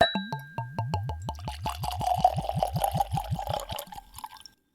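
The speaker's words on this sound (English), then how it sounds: "that's a fresh bottle crack pour" Cask-strength whiskey glugs from a freshly opened bottle, a rapid run of bright gurgling plops that speeds up and blurs into a steady splashing pour before stopping, close and clear with no talk.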